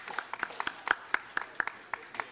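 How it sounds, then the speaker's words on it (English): Scattered hand claps from a small audience at a United Nations General Assembly launch of the Kaduna State, Nigeria SDG report, about a dozen distinct close claps in an uneven rhythm with no talking. "You can clap."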